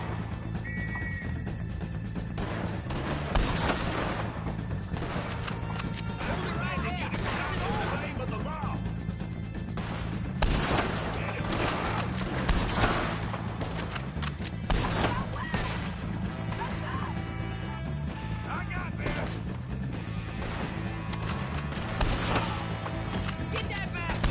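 Gunfire in the video game Red Dead Redemption 2: repeated sharp shots and impacts scattered through a dense, busy game mix, with people talking over much of the action.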